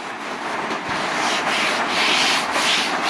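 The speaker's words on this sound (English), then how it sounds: "we'll sand the rest of it back so we'll get an even colour" Steady abrasive sanding of body filler on a Nissan Skyline panel, a continuous close scratchy rasp with gentle surges in pressure and no talking.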